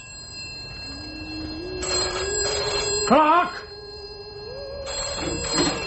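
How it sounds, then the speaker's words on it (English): A telephone bell rings in repeated bursts, loud and close, with someone shouting over it and other voices talking around the rings. "Answer that bloody phone!"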